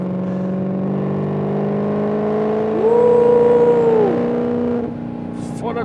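A Maserati GranTurismo engine heard from inside the car while downshifting, a steady droning exhaust note that rises sharply in a quick rev blip, then drops back, moderately loud with no talk over it.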